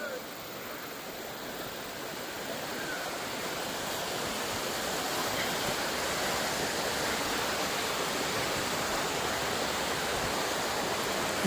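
A steady, broad roar of rushing water, like a large waterfall, grows slightly louder and stays constant throughout.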